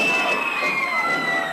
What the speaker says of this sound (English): the crowd loves it, Doc